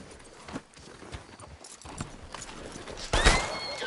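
A horse in the video game Red Dead Redemption 2 clip-clops along with scattered hoofbeats, then gives a sharp, close neigh near the end.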